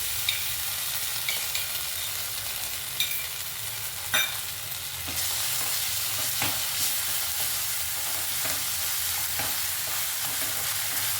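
Onions fry in a pan with green chillies and ginger-garlic paste while being stirred, giving a continuous bright sizzle broken by intermittent scraping and clinking strokes of a spoon, close and fairly loud with no talking.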